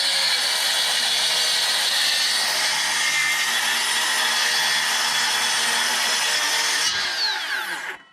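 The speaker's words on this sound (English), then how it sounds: "We'll just run a random rip." An 18 volt cordless saw makes a rip cut through wood, a loud, steady high whine running for about seven seconds before it spins down and stops.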